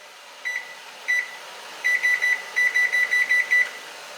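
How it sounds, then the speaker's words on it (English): A few single electronic beeps as kitchen timer buttons are pressed, then a rapid run of short, bright beeps in a row, close and clear in a quiet room. "Put the timer on."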